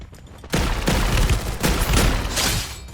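Gunfire in the video game Free Fire: after a quiet half second, a loud rapid burst of shots rattles close up for about two seconds, then trails off as the firing stops.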